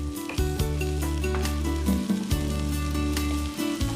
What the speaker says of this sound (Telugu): ఇప్పుడు అన్నీ కలిపి ఫ్రై చేసుకో. ఉల్లిపాయ, పచ్చిమిర్చి, మినప్పప్పు అండ్ సెస్మి,